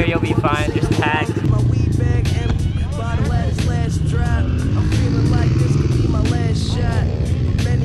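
A dirt bike engine revs and rises through the gears at a riding spot in Utah, a loud, close, buzzing rasp with climbing pitch under excited voices talking throughout.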